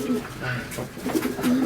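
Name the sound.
pigeons cooing at a pigeon farm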